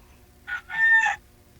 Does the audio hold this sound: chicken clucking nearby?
yes